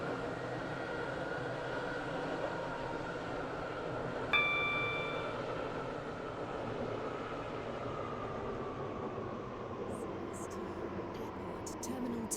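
Train pulling into a station in the Stepford County Railway game, Waterline route: steady low rumble and running hum with a bright chime around the middle, fading toward the end with faint clicks.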